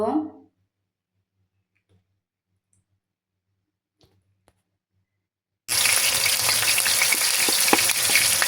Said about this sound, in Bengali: তারপর তেলের মধ্যে প্রথমে দুই চামচ পেঁয়াজ বাটা দিয়ে দেব